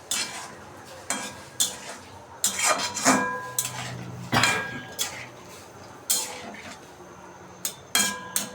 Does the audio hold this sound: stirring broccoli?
yes